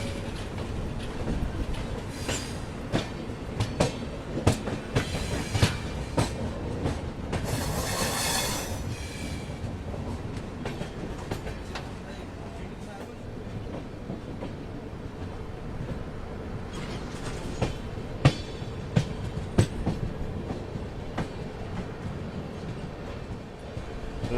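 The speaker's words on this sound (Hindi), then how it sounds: "यहाँ पे देखिए डिपार्चर मिल रहा है सूरत मुजफ्फरपुर एक्सप्रेस को" Surat Muzaffarpur Express pulling out of Ratlam railway station, a steady rumble of rolling coaches with wheel clatter and occasional squeals and clanks, loud and continuous throughout.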